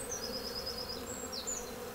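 Honeybees buzz in an open hive during a spring inspection, a steady close-up drone with a few higher passing whines from individual bees flying near, continuous and without talk.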